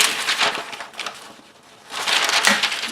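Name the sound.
sheet of paper being handled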